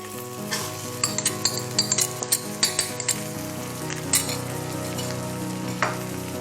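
Parboiled polao rice, cooked about 70 to 80 percent, fries and sizzles in a pan over high heat for fried rice, a steady hiss broken by sharp scrapes and clinks of a stirring utensil against the pan, with no voices.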